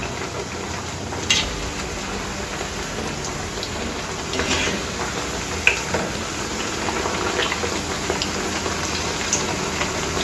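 Bottle gourd vadas (sorakaya garelu) sizzle in hot oil with a steady, dense crackle and hiss, near and continuous, broken by a few sharper pops and spits.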